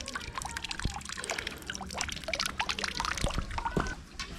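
Water runs from a drinking water tap beside a chapel in Zell am See, Austria, splashing and trickling steadily into a basin nearby.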